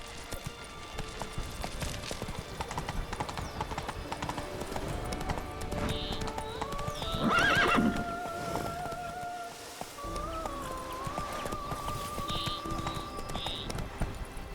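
Roach, a horse in The Witcher 3: Wild Hunt, gallops with steady, close clip-clopping hoofbeats that run through the whole stretch beneath game music and other in-game sounds.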